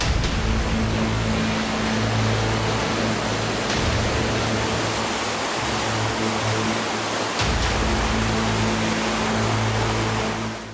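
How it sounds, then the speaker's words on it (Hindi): A large waterfall roars as water drops from about 150 feet along a mountain path, making a loud, continuous broadband rush that fills the whole clip, with a low steady drone underneath and no talking. "ये तो बहुत बड़ा झरना था।"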